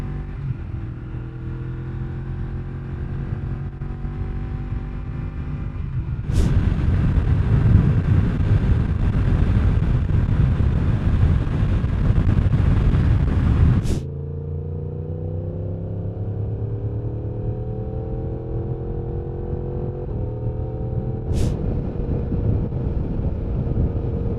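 Inside a Scorpion Covert FX motorcycle helmet while riding at city and highway speeds: a constant low roar of wind and road noise, jumping to a louder rush for several seconds, then dropping back.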